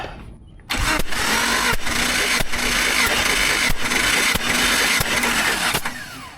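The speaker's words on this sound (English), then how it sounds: "get your grip and get ready to turn it over" Engine cranking over during a compression test with a gauge in the spark plug hole, a steady loud whirring turnover with regular rhythmic pulses lasting several seconds after a quiet start.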